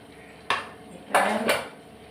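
Cooked dal (lentils) being mashed in a metal pot with a utensil for green chilli paruppu rasam, heard as a few sharp clanks and scraping knocks against the pot, close and fairly loud, separated by quiet pauses.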